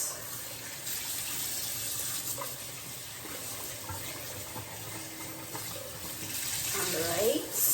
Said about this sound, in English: now I'm gonna wash them. Just give them a rinse.